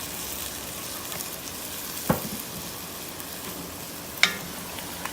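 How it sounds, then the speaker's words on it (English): A chicken stew pan sizzles steadily as wine deglazes it over a raised flame, with a constant frying hiss and two sharp scrape or clink accents along the way. "I'm going to turn up the flame just a little because it's going to help me deglaze the pan"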